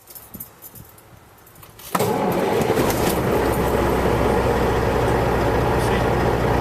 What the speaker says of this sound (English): I'm starting the engine now.